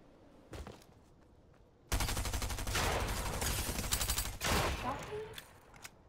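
Automatic weapon fire in Fortnite crackles in a sustained, fairly loud burst of rapid shots lasting a few seconds, with a quieter single shot just before it and a short lull near the end.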